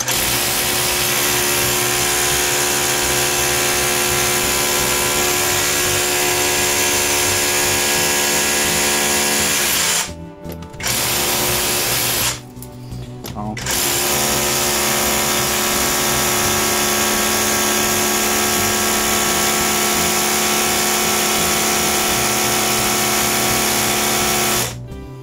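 A Parkside Performance PKHAP 20-LI A1 20V cordless SDS-plus hammer drill bores into steel-reinforced concrete, a loud continuous grinding hammer roar that cuts out briefly twice near the middle before resuming steadily to the end.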